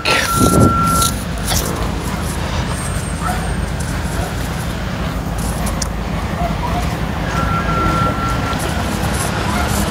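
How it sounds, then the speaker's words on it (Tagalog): Cars and trucks stand stuck in a jammed highway during Typhoon Enteng in 2024, heard as a steady, loud, wide-band roar of engines, wind and rain that runs the whole time, with faint voices in the background. "Oh, yung traffic."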